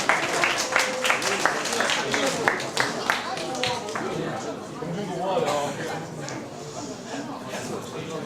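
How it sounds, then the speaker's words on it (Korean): Audience clapping at a public science lecture in Gwangju, a burst of applause in the first few seconds that fades into murmuring and chatter from the crowd. "박수 한번 쳐주세요."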